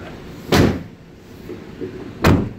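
Twin rear doors of a 2017 Volkswagen Crafter long-wheelbase van swinging shut, two solid slams about two seconds apart, close and loud, with no talking.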